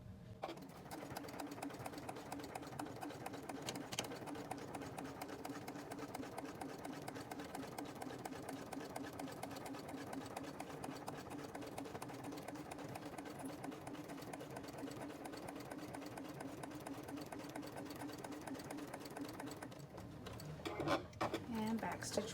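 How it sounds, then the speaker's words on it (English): Sewing machine top stitching along the fold of a fabric binder pouch at an eighth-inch seam allowance, a steady close mechanical whir running continuously for over twenty seconds before brief handling clatter at the end. "You're going to be sewing an 1/8 inch seam allowance, and you want to back stitch well."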